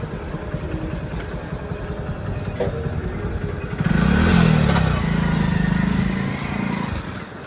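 A motorcycle engine drones steadily while riding, close and moderately loud, its rumble swelling partway through and then holding with light rattling underneath.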